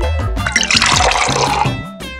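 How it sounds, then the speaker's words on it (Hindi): Cold water is poured into a glass of curd, a close, gurgling splash of liquid filling the glass for about two seconds before tapering off. "तुम इसमें जरा ठंडा पानी डाल दोगे क्या बुद्धू?"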